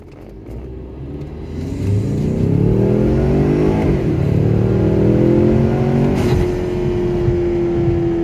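A Ford Mustang EcoBoost turbocharged engine pulls hard at full throttle, its loud, close drone climbing steadily in pitch, breaking at two gear changes, then settling into a sustained high note.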